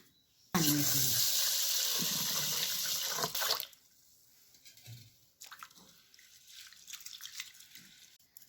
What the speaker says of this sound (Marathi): धुवून घेतले, तांदूळ धुवून झाले